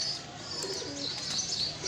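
Soft, low pigeon coos sound briefly amid steady background hiss, with no talking.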